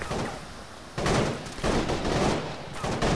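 Heavy gunfire rattles through a bunker in Shack Tactical, a video game mission, with dense overlapping bursts that rise and fall in loud waves, sounding like echoing ricochets off hard walls.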